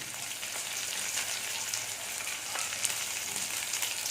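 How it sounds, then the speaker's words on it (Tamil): Curry leaves fry with sautéed onions in hot oil for idli sambar, giving a steady, close, bright sizzle with scattered crackles and no voices. "வெங்காயம் நல்லா வதங்கிடுச்சு. கருவேப்பிலை சேர்த்துக்கணும்."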